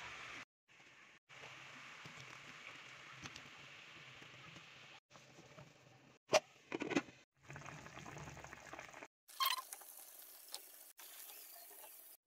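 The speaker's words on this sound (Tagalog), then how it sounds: "kumukulo na po" Steady bubbling and simmering of a pot of jackfruit, mung beans and pork boiling, close up, with a few brief clinks and louder bursts near the end.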